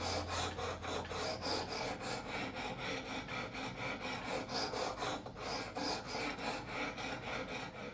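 A knife blade is drawn across a sharpening stone on a TSPROF Pioneer guided sharpener, producing regular, evenly paced rasping strokes, close and steady, with no talking.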